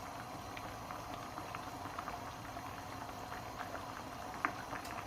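Pulao of rice and peas boiling on a high flame, a soft continuous bubbling with small pops and one sharper blip, close and fairly quiet.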